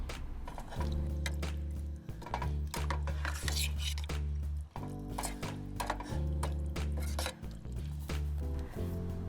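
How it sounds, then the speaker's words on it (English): A spoon stirs canned diced green chilies into a pot of creamy chicken chili, making repeated soft clinks, scrapes and thick squishing sounds against the metal, close by, with a steady low hum of music or appliance underneath. "Now the canned diced green chilies get tossed in. We're gonna stir."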